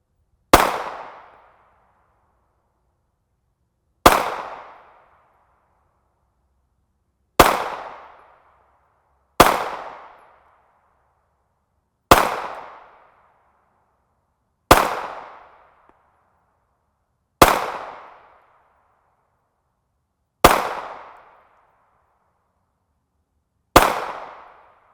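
Ten loud, sharp shots from a Glock 19 Gen 4 MOS pistol firing 9x19mm 124-grain Igman FMJ rounds. Each crack has a short echoing decay, and the shots come slowly at uneven gaps of about two to four seconds.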